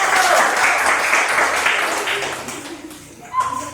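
Classroom clapping for the first student group as it comes forward, a burst of many hands that fades over a few seconds, giving way to a voice speaking at the end.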